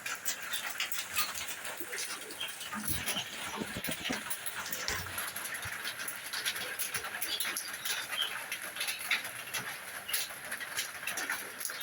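Budapest racer pigeons coo softly and steadily in a loft, with a few brief wing flaps and scattered sharp knocks close by.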